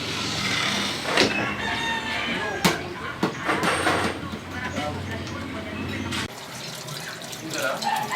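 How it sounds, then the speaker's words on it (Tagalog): Children wash their hands under a running tap at a rural home. Water splashes and patters steadily, while voices talk nearby and a rooster crows faintly in the background. "Grace at Ana, muna na kayo maghugas ng kamay."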